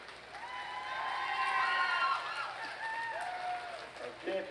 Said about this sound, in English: Let's give these kids another big round of applause.